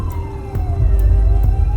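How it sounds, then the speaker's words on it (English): A police siren wails in a steady falling tone over a low rumble of traffic, growing slightly louder toward the end. "he started to hear the sound of police sirens"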